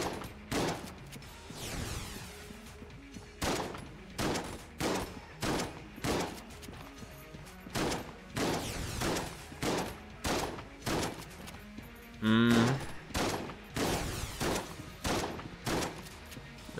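Gunfire in the roguelike shooter Enter the Gungeon: loud, regularly spaced bursts of shots pound steadily throughout, roughly one burst every second, with a brief tonal blip partway through.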